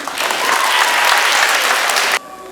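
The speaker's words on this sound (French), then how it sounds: "On applaudit." A crowd applauds the mayor of Saint-Constant at a morning cycling event gathering, with loud, dense clapping that stops abruptly at the end.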